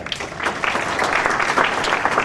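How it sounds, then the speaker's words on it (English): Applause rises from the audience at a fall dance event celebrating 100 years, a steady wash of many hands clapping, building slightly and holding loud to the end. "A big round of applause for all of them."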